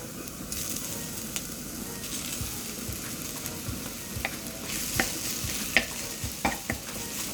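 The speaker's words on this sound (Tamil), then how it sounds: "நான் மசித்த உருளைக்கிழங்கையும் அந்த க்ளீன் பண்ணின டின் ஃபிஷ்ஷையும் அடுத்தடுத்து போட்டு நல்லா மசிக்க போகிறேன்." Mashed potato and cleaned tinned fish being pressed and stirred together in a frying pan for Jaffna fish patties, giving soft scraping and tapping knocks over a low continuous sizzle.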